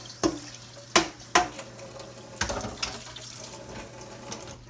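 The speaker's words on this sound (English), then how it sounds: "Now, wash my hands off here." Hands are washed under a running kitchen tap while cooking chicken livers, with several splashy bursts and a steady trickle of water, close and moderately quiet.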